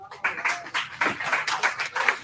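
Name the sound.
round of applause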